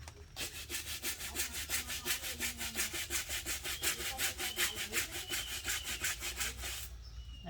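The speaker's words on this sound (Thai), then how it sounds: "มันก็ต้องออกแรงขัดหน่อย" Canvas sneakers scrubbed hard with a brush: about two dozen quick, even back-and-forth strokes in a steady rhythm, close and clear, with no talking.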